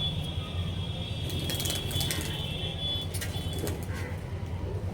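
Pigeon cooing from a competition pigeon, soft low repeated coos close by over a steady background hum, with faint higher chirps and clicks, no talk.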